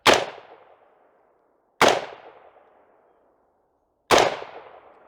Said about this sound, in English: So we're gonna fire 3 rounds.